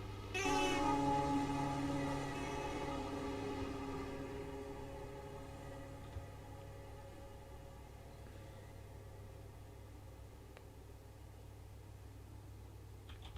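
A train in the SCR railway video game passes through a station without stopping, its horn sounding loudly at the start and then fading into a steady rolling rumble that slowly recedes.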